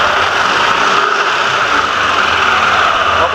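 A Yamaha NMAX 155 scooter, freshly serviced CVT, runs steadily with a smooth, even engine hum and a broad whir, close and constant for a few seconds with no talking.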